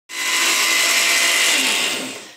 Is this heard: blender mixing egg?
yes